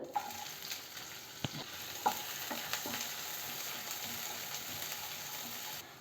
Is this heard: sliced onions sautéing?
yes